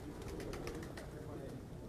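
Shikra pigeons on a rooftop coo faintly in soft repeated calls against a steady hiss of background noise, with a voice talking quietly underneath.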